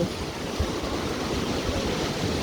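Sea water washes steadily against the shore as the tide rises, a continuous, fairly loud rushing surf with no voices.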